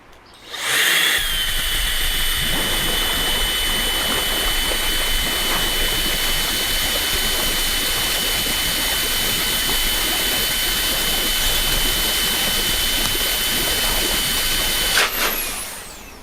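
A loud, steady high-pitched motor whine of a HiKOKI RA18DA cordless mini blower running underwater, with a churning, bubbling wash beneath it, stopping abruptly near the end.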